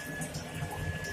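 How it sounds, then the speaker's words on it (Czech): Water running from the tap into the sink of a Railjet train toilet, a steady close hiss with a faint constant tone under it. "Voda teče"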